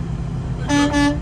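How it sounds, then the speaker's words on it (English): A truck air horn blasts twice in quick succession, loud and close, over low road rumble from inside the cab while driving. "Sound your air horn as we're going by right now."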